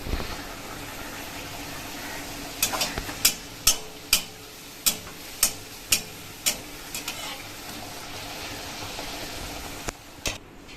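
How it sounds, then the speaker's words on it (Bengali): Luchi deep-frying in hot oil give a steady close hiss, broken midway by a run of about ten sharp, evenly spaced taps. "এখানে তেল গরম হয়ে গেছে এখন লুচি ভাজাও শুরু"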